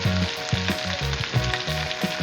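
Green chillies frying in hot oil for an egg and lentil curry, a close, loud sizzle with crackling bursts pulsing in quick rhythm, no talk.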